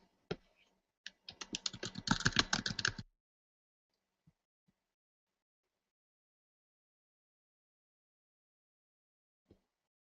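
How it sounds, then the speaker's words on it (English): Quick bursts of close-miked typing on a computer keyboard, a flurry of rapid clicks lasting about two seconds, then near silence with a few stray faint clicks. "I thought that was somebody typing in the chat. Nope, that's me."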